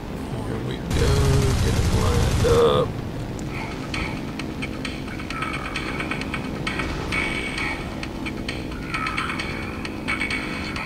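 Enemy aircraft machine-gun fire rattles in War Thunder during a Yak-1 fighter dogfight, a loud burst of rapid shots over the steady drone of the plane's engine, followed by scattered lighter impacts and crackles.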